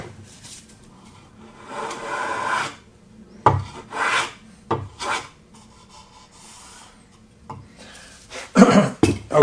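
Hand plane shaving wood on a Tolpin tote project, rasping strokes in several bursts, close and fairly loud, with pauses between passes.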